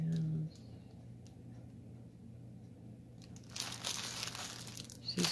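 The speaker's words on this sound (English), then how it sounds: "Okay, we're crinkling for a hot moment." Plastic packaging of a pre-stamped cross stitch kit being crinkled and handled, with soft rustling early on and louder, busier crackling in the last couple of seconds, close up with no talking.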